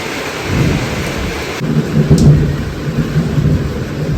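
Steady rain falls with low rolling thunder rumbling through it, a loud continuous wash with a deeper swell partway through, no voices.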